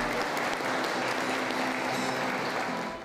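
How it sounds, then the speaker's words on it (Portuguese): Applause fills a church during a ceremony, a dense, steady wash of clapping for about three seconds that fades at the end. "Foi recebida com aplausos."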